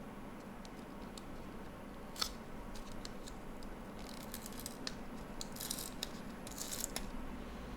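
Crinkling and tearing of a 2023 Fleer Ultra card pack wrapper, with faint scattered crackles and short rips, close but very quiet, over a low steady room hum.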